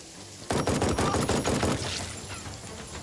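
A burst of gunfire aimed at an enemy in the Jagged Alliance 3 video game starts abruptly, a loud rapid volley of closely spaced shots that runs for about a second and a half and then leaves a fading tail.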